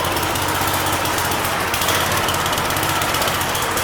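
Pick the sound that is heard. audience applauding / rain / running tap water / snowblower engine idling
snowblower engine idling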